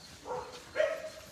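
A dog gives two short, fairly distant barks in quick succession, faint over low background noise.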